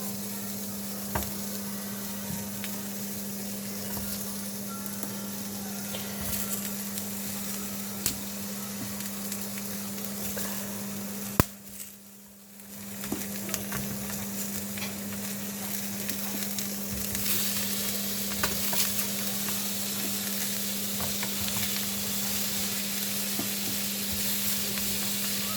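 Sliced bell pepper and zucchini frying in a pan for grilled vegetables, a steady close sizzle with occasional stirring and knocks, briefly dipping midway before the crackle returns at full strength, no voices.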